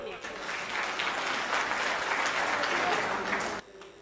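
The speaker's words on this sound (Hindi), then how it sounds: "जरा पीछे तक तालियां लहरा दो अपनी" Sustained applause from an audience at a Hindi comic poetry gathering, dense and loud, clapping for several seconds before stopping abruptly.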